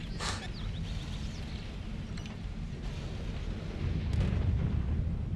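An enemy tank's gun fires in a tank video game, heard as a distant, muffled boom under a steady low engine rumble, with a faint crack near the start and a louder surge toward the end.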